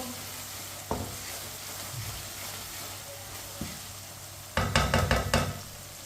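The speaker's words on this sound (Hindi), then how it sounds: "सब चीज़ों को ना इसी तरह चम्मच चलाते हुए भुने।" Spices and masala for a potato dish fry in a pan while a spoon stirs them, giving a steady soft sizzle with occasional metallic taps and a louder burst of scraping toward the end, close and without talk.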